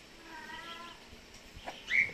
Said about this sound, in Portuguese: A gata do Kaique tá reclamando